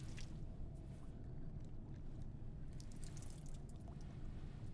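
Water sloshing and dripping in a basin during hand washing in the Silent Hill f video game, a steady soft wash of liquid with faint splashes throughout, no voices.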